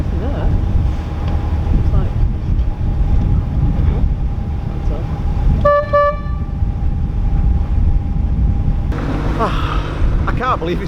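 A narrowboat horn gives one short, clear toot on the River Weaver, heard over constant wind buffeting the microphone, with people's voices coming in near the end.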